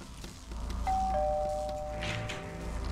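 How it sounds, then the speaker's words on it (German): A doorbell in the game Centralia Homecoming gives one clear two-tone ding-dong whose tones ring and fade over a low ambient background. "Oh, das ist eine Klingel."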